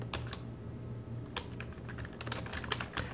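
Quick bursts of typing on a computer keyboard, close and quiet, with clusters of key clicks separated by short pauses over a low background hum.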